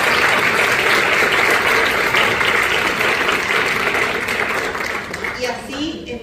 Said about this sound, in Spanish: le pido a todos ustedes un fuerte aplauso